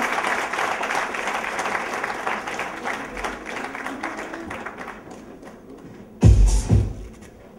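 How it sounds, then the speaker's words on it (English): Audience applause at a business leadership awards conclave greets Professor Arindam Chaudhary, a dense steady clapping that thins slowly over several seconds before a sudden loud burst of close handling thumps near the end. "Can I have a huge round of applause?"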